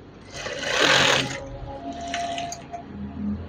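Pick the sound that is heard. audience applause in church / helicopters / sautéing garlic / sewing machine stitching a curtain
sewing machine stitching a curtain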